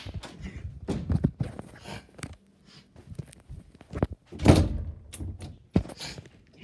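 Someone forcing at a locked door, with a series of heavy thuds and knocks at irregular intervals, a big bang near the middle, and rattling and scuffling between impacts, close and loud.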